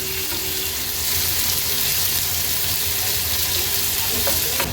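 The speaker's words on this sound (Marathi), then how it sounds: "आता ही कढीपत्ता मिरची आणि कांदा बारीक चिरलाय आहे तो ॲड करणार आहोत थोडासा कांदा तेलावर परतून घ्यायचे" Onion, curry leaves and chili sautéing in hot oil for a dhaba-style sev tomato curry, giving a steady, close, fairly loud sizzle and crackle throughout with a faint scrape of stirring near the end.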